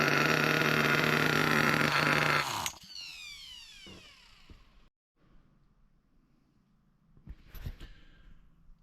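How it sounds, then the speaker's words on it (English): A nitro RC monster truck engine runs loud and buzzy for under three seconds, then cuts out abruptly. Quiet handling clicks and faint knocks follow, with a brief louder rattle near the end. "Let me just pop in take a look at the glow plug and see if this engine will at least fire back up"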